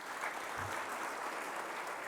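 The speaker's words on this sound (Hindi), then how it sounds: "इनके लिए बड़ा जोर से और ताली बजाइए।" Audience applause at a public event in India, a dense steady clapping from a crowd that fills the short moment without pause.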